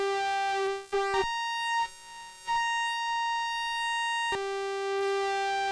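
ASM Hydrasynth FM synth tone with distortion, a steady harmonic-rich sustained note that drops and shifts pitch briefly near the start, then holds before returning to the original pitch, clean and alone with no talk.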